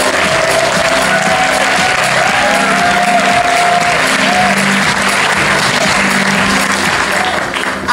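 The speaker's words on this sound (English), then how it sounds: "I think you're giving us a better applause now at the end than even in the beginning" Loud, sustained audience applause fills a conference hall after a keynote session at a travel bloggers' conference in Stockholm, dense steady clapping with a few faint cheers.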